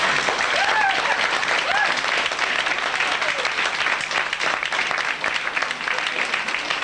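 Audience applause at an amateur village pantomime of Red Riding Hood, a dense, steady wash of many hands clapping for the cast, loud and continuous throughout with faint voices mixed in.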